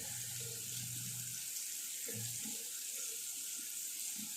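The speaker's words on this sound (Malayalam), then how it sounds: "വെള്ളം ഒഴിച്ചപ്പോൾ" Water pours and splashes down a bathroom drain in a steady, moderately loud flow with gurgling bursts, no voices.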